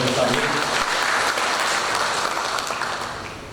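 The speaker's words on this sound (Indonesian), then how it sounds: "Tepuk tangan dulu untuk Universitas Darul." Audience applause at a university graduation ceremony fills the hall, dense and sustained, then tapers slightly toward the end.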